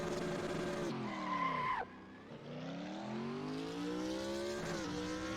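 A car in a racing simulator revs hard, the engine pitch rising then cutting sharply as it shifts, with a brief tire squeal before the revs climb steadily again, loud and close.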